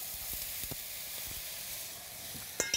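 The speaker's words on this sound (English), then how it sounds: "And now put our beans in." Beans hit a hot pan and sizzle steadily, a close, continuous frying hiss with light stirring clicks, no voices.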